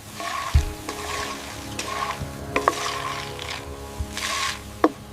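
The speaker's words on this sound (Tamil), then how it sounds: "உளுத்தம் பருப்பு சேர்த்து பொன்னிறமா வறுத்துக்கோங்க" Urad dal frying and being stirred in sesame oil in a pan, a steady close sizzle with scattered scraping clicks and taps from the spoon, no voices.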